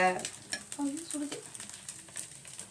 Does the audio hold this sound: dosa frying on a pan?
yes